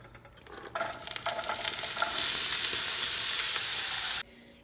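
Diced onion and green pepper sauteing in olive oil over medium heat, a loud, close sizzle that builds and holds with occasional stirring scrapes, then stops suddenly.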